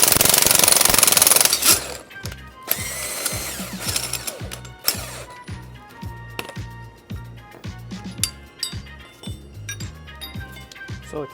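Repeated sharp metallic hammer blows ring out at a steady rhythm while an old suspension bushing is driven out of a BMW M3 E36, close and loud, following a brief burst of harsh noise at the start.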